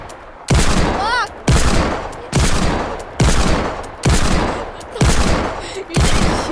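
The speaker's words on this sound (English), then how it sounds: "You're just shooting at it." Video game gunfire in a Dusty Divot battle, six loud evenly spaced booming shots about one second apart, each decaying before the next, close and dominant with no talking over them.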